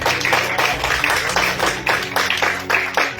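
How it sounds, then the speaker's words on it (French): A church congregation claps together for the pastoral group, steady rhythmic clapping repeating about twice a second, fairly loud and close, with a low musical hum underneath. "Applaudissons le Seigneur pour leur vie."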